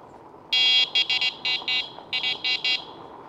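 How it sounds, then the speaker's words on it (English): An electronic bicycle horn blares in a series of short, shrill beeps, one longer blast followed by quick rhythmic bursts, on a forest trail in Ouachita National Forest. "or I'll do my electronic horn."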